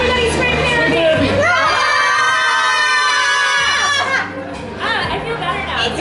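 A group of people screams together at full volume in a sustained shrill chorus as scream therapy, breaking off briefly and then restarting with more yelling.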